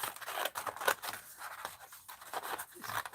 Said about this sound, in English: Let's cut this in half.